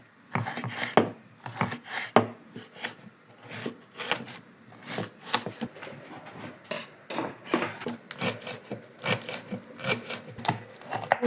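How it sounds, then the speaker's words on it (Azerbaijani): Knife chopping walnuts and salad ingredients on a board for an Azerbaijani Tbilisi salad: quick irregular bursts of sharp close taps, some in rapid runs and others spaced apart, with no talking. "Sonra isə keçirik qalan ərzaqlarımızı doğramağa."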